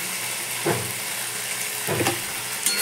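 Lote fish curry with tomato sauce sautéing in a pan gives a steady close sizzle, with two brief bursts of stirring scrapes and no talk.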